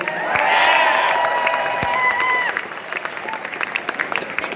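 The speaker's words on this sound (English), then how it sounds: "Can you please get a round of applause for them?" An audience at a convention cantina event in a hotel bursts into applause and cheering, a dense clapping swell that fades after a couple of seconds into scattered claps and crowd murmur.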